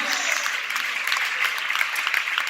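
A church congregation applauds in a steady, dense patter that holds for the whole stretch at moderate loudness, with a voice faintly mixed in.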